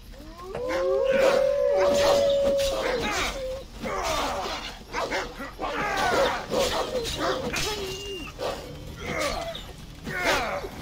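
Dog barks and howls in Assassin's Creed Odyssey, a drawn-out howl followed by a run of barking and yips, loud and close, with game ambience and some talk over it.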